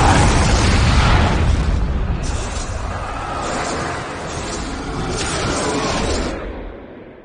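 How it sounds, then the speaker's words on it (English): A loud, sustained blast from a bomb explosion in a fantasy drama scene, a deep rumbling roar that holds for about six seconds before fading, with no talk over it. "Jack was a bomb designed to annihilate cosmic forces."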